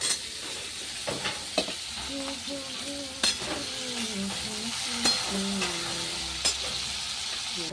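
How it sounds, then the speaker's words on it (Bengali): Elephant foot yam frying in a pan with shrimp and green chili, a steady sizzle with repeated stirring scrapes and a few sharp clinks of a utensil against the pan, close and fairly loud. "এখন আমার ওলটা ভাজা হয়ে গেছে।"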